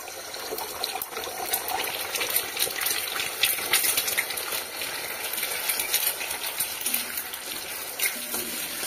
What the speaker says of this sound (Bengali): তেলটা গরম হয়ে গেছে, এবার আমি ফাটিয়ে রাখা ডিমটা তেলের ওপরে দিয়ে দেব।